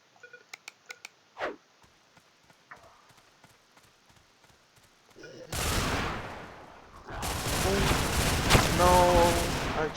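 Gunfire in the video game Survivalist, with a run of quick sharp shots early that give way to louder, denser combat noise and commotion in the second half.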